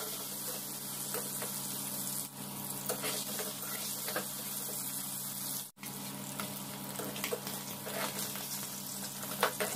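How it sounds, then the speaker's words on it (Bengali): Small red potatoes fry in hot oil for a singhi fish curry, giving a steady, dense sizzle that runs unbroken for about ten seconds, with one brief dip partway through. "এখন আমি এই তেলের মধ্যে খালি আলুগুলো ফ্রাই করে নেব"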